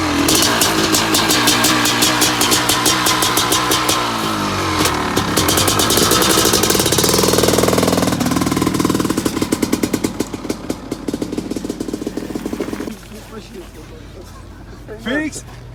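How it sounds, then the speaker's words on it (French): Motorcycle engine running loud and close while heading off to the park at a vintage race meeting, the rumble steady with revving surges, voices talking over it throughout. "On va y aller à moto."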